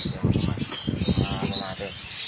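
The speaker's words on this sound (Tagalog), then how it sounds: "Ito mga handfeed nating African lovers, mga kakatail." Hand-fed African lovebirds and cockatiels chirp and flutter in a busy, continuous mix, with someone talking over them nearby.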